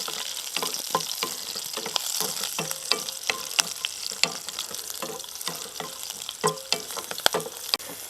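Three slit green chilies fry in hot oil for a coconut chammanthi, giving a dense, steady crackling sizzle punctuated by sharp spatters and spoon clicks throughout, with no voices.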